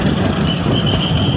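A train at Narayanganj railway station in Bangladesh rumbles steadily, with a constant high metallic squeal over broad low-frequency noise, loud and close, and no voices.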